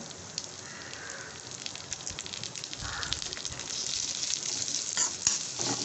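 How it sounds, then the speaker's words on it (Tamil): Coconut and finely chopped jackfruit sauté in a pan for an appam batter, giving a steady soft sizzle with scraping stirs of a spoon, moderately quiet and close, with no talking. "நல்லா வதக்கிடுங்க"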